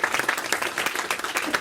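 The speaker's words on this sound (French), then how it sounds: "Une grosse main d'applaudissements pour tous ces partenaires." A crowd claps at the launch event for a 25th telethon, giving dense, lively applause for the event's partners, loud and close for under two seconds.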